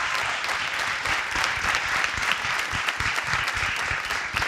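Studio audience applause on an Armenian talk show, a dense, steady wash of many hands clapping close by, holding level for the whole few seconds with no voices over it.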